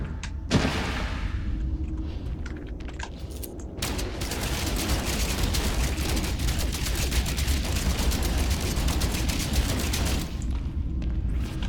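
Weapon fire from a combat weapon in the video game No Man's Sky, a dense, continuous burst of shots and booming blasts running loud for most of the stretch after a brief quieter opening.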